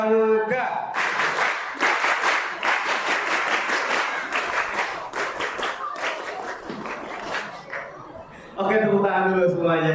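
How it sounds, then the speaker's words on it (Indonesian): A group at a gathering performs the Indonesian scout rhythmic clap, tepuk pramuka, a loud patterned burst of unison handclaps with voices mixed in, and speech is heard at the start and end. "1, 2, 3. Tepuk pramuka."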